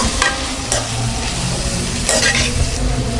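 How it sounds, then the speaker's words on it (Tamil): Chopped onions and potato with turmeric fry and sizzle in a pan for potato poha upma, with a steady hiss broken by several scraping stirs of a spoon. "கட் பண்ணி வச்சுருக்கிற உருளைக்கிழங்கு ஆட் பண்ணிக்கலாம். இதை நல்லா ஃப்ரை பண்ணிக்கலாம்."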